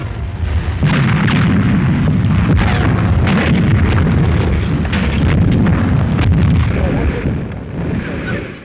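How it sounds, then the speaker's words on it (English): Artillery guns open fire across the straits from Sicily, a dense, continuous low rumble of booming shots and blasts with wind buffeting, loud and sustained throughout before easing near the end. "from Sicily the guns opened up across the straits just before the landing craft sailed"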